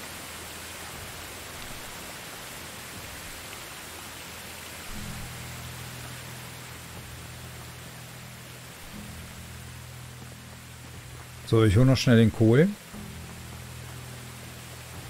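Steady rain falls throughout a rainy day in the game Medieval Dynasty, a constant even hiss with a low hum underneath, and someone speaks briefly near the end.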